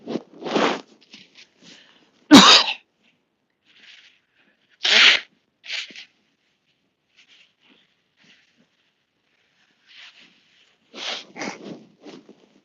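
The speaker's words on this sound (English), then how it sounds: "feel like I want to sneeze again." A sharp, explosive sneeze bursts out, with a few quieter sniffs and breaths before and after it.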